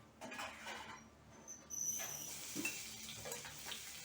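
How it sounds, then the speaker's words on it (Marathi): Garlic sizzles and crackles in hot oil, a steady close frying hiss with small bursts of spatter, moderately quiet and without voices. "तर आपलं हे तापलं आहे, त्यातच आपण लसूण घालून घेऊया"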